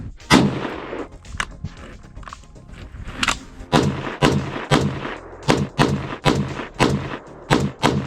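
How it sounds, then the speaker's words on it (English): An SKS rifle at a range fires cheap surplus ammunition, giving a series of sharp, booming reports, about a dozen shots, irregular at first and then in quicker succession, close and loud. "right now it will be the first time I'll be shooting the cheap surplus ammo"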